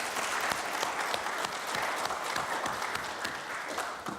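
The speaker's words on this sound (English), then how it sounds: "Round of applause for Candace Elder, please." Applause for panelist Candace Elder at a community event on mental health and homelessness at Laney College, a steady crowd clapping that carries evenly throughout, moderately distant.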